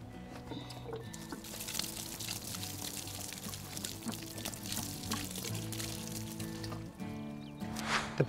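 Liquid fertilizer pours from a watering can nozzle onto eggplant, capsicum and chilli plants, giving a continuous close splashing trickle with bubbly gurgles, steady for about seven seconds before some louder splatters at the end.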